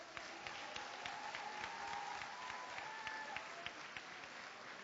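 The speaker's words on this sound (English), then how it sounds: "I want the students to applaud the parents and the families for all you do for them." Students at a school district event applaud parents and families with steady, massed clapping from a large crowd, heard at moderate distance, with faint voices and a tone running through it.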